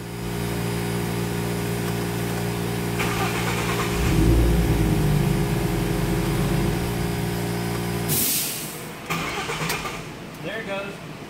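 A 3.5L Ecoboost engine swapped into a Mustang, cranking with a steady mechanical drone and a surge partway through, then a sudden cutoff followed by clicks and rattles near the end, with no voices.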